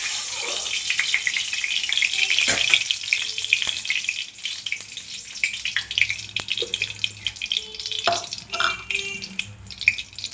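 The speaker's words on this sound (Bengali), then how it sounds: "পেঁয়াজ, আদা, টমেটো আর কাঁচা লঙ্কা, এটা আমি কষিয়ে নেব ভালো করে।" A paste of onion, ginger, tomato and green chili fries in hot oil, sizzling and crackling steadily at close range with scattered louder spits and pops, and no one speaks.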